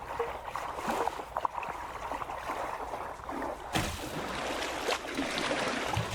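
Warm water pouring in the video game Wanderstop, a steady watery gurgle and trickle running throughout, with a brief pause near the middle before the flow resumes.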